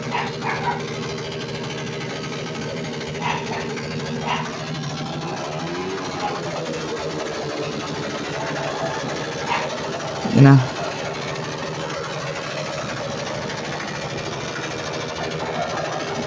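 A friend's motorcycle engine kick-started and idling at a motor show in San Pedro, Tiaong, Quezon, a steady rough drone under crowd chatter and nearby talk, with one brief louder pop midway.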